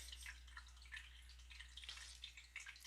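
Water running and trickling in two home fish tanks gives a faint, continuous bubbling and dripping hiss, quiet and close, under a low steady hum with no talk.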